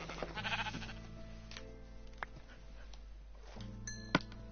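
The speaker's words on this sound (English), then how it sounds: "Because now I want to kill that sheep for food." A sheep in the Minecraft video game bleats in a few short, wavering calls, moderately close, with quiet game ambience between them.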